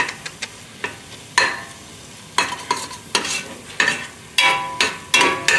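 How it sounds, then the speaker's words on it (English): A spoon scrapes and knocks in a pot while yellow curry base is stirred, giving short irregular clanks and scrapes separated by quiet gaps, with a faint sizzle underneath and no talking. "Now we're just gonna keep stirring."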